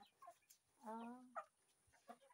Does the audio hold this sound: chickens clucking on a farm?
yes